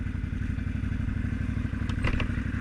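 A Can-Am off-road vehicle rolls along a dirt trail at Hidden Spring Ranch, its engine a steady low rumble with light clattering and a couple of bumps and scrapes over the ground, continuous and close.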